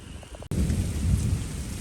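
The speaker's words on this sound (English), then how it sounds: "This storm is no joke." A thunderstorm with a sudden loud crack of thunder followed by heavy, steady rain and a low rumbling roar, close and dense, no voices.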